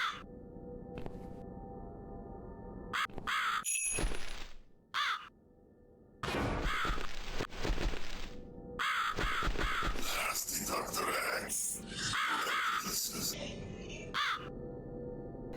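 Crow caws from The Cat Lady video game, several harsh calls in bursts over game music and effects, loud and close, with pauses between groups.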